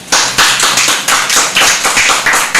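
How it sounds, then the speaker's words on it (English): Clapping at a book launch, loud and close: a brisk, even run of sharp hand claps with strong regular beats throughout, no voices on top. "please clap for yourselves"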